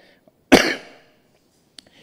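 A single sharp cough from a pastor preaching in church bursts out close by, fading over half a second, followed by quiet and a faint click.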